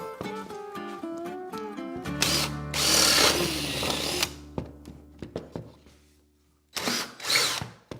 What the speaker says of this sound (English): I'm going to switch and drill from the other side.